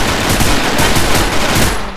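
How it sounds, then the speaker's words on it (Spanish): Rapid automatic gunfire from a video game blasts loud and continuous for about two seconds, a dense rattling barrage with no talk over it. "Mira, estoy disparando"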